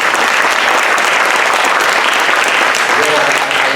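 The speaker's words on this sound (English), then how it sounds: "I would like you to join me in applauding our guest speaker, Bill Kotkin." A conference audience at a regional housing summit in Salinas, California applauds a guest speaker, with loud, dense, continuous clapping that fills the room throughout.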